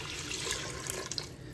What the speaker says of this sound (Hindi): तो सबसे पहले हम यहाँ पर पानी ऐड करेंगे